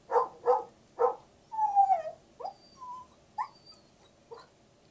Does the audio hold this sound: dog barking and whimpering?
yes